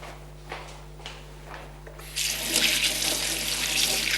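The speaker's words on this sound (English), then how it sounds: "Now what I'm going to do is wash my hands." Tap water gushes into a sink to wash hands after a few soft clunks, the rush starting midway and continuing loud and close, no speech.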